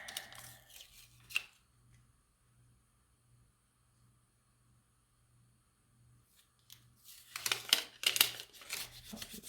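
Backing being peeled off an adhesive craft piece for a Lucky Gnome maker kit, a faint tearing strip near the start, a long quiet gap, then a louder stretch of close-up peeling and rubbing toward the end.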